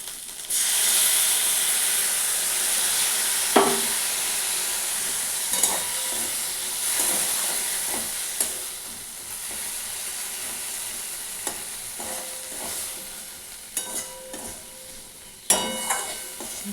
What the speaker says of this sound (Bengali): মশলাটা অল্প ভালো ভাজা ভাজা হয়ে গেছে